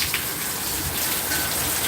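Heavy rain pours down steadily after dark in Danang, a dense, continuous hiss of water hitting surfaces close by, with no voices.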